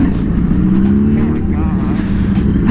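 A Honda CB750 Hornet streetfighter motorcycle pulling away off first gear with the throttle cracked open, a loud, steady engine drone close by, with rushing wind across the whole stretch.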